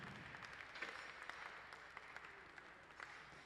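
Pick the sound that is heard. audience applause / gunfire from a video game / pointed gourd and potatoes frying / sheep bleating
audience applause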